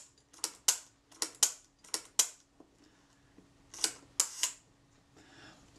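Kodak Retinette type 012 leaf shutter, French market version, fired repeatedly on a bench: sharp mechanical clicks in quick pairs, several bursts close up and fairly loud, with no talking.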